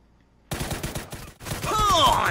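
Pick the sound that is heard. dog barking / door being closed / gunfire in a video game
gunfire in a video game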